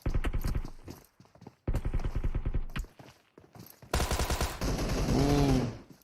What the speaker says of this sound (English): Some impressive strafing.